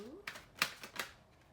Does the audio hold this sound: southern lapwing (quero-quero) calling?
no